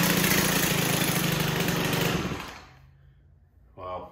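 A Stihl 4-Mix pro trimmer engine, choked with the throttle locked, roars loudly and steadily for about two seconds before sputtering out to near silence, then a brief new burst of sound at the end.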